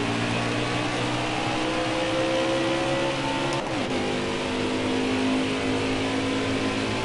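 A NASCAR race car engine in the NASCAR Heat 4 video game, leaving pit road with a steady loud drone that rises in pitch midway as it accelerates, continuous and close throughout.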